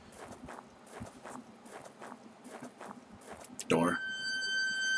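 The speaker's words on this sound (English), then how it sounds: "you can hear the footsteps behind me" Footsteps behind the player in the horror game Home, a steady series of soft thuds walking at an even pace, then a sudden sharp rising tone near the end that holds as a high ringing hum.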